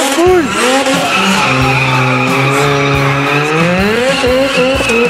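During a car burnout, the engine roars loudly and the spinning tires squeal and skid continuously, a close, sustained screech with shifting pitch that dominates from start to finish.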